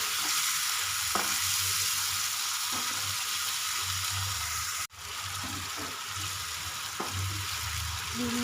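Spices and tomato paste tempering in hot oil in a pan for a home-style vegetable curry, giving a loud, steady close-up sizzle with occasional stirring scrapes and one brief dip in volume midway.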